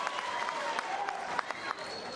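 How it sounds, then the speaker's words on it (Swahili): Applause from a crowd at a political gathering, brief scattered clapping heard under voices and general crowd noise. "Pigia yeye makofi"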